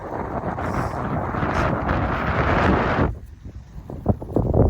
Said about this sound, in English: you can see the wind's picking up a little bit